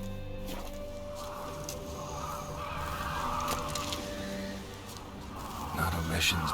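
Ravens caw in a Witcher 3 outdoor scene, harsh calls repeating over steady game ambience and a low hum, carrying moderately loud throughout.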